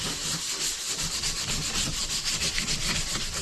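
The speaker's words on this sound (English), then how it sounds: "I'm just doing the last couple hand sands on this old girl" Hand sanding on an old wooden quad body, a steady close scratching rasp of abrasive drawn over wood in quick continuous strokes, loud and unbroken with no talk.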